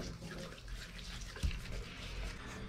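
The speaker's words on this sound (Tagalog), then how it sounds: "Pagkatapos natin lamasin sa asin mga paps, natin babalawan sa tubig." Salted carp being rinsed under running water, a soft continuous splash and trickle with a faint thump midway, quiet and close.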